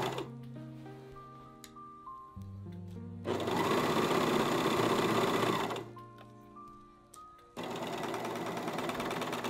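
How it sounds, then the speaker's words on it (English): A sewing machine stitching the side seams of pants, running in bursts: stepped tones as it starts and slows, then a loud steady whirring rattle for a few seconds, a pause, and another sustained run. "I'm just going to be sewing up this front side seam and the back side seam."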